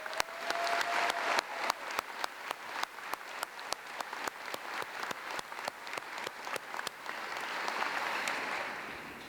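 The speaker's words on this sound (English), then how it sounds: "Let's give her another round of applause." Sustained applause from a graduation ceremony audience at Massey University in Wellington, steady dense clapping with sharp individual claps standing out, filling the hall for the full stretch without talk.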